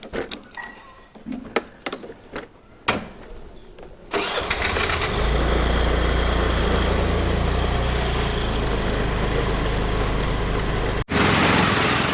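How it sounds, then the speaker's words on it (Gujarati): Hero Maestro scooter engine starting and running, a few rough knocks and clatters giving way to a steady, loud mid-pitched engine drone that holds for several seconds and then cuts off abruptly. "અત્યારે તો હું આ મારું મેસ્ટ્રો જે છે એ લઈને અજયભાઈના ઘર તરફ હું નીકળું છું"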